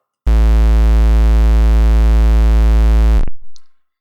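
A single long, heavily distorted hardstyle kick drum booms loudly for about three seconds, then cuts off abruptly with a brief fading tail.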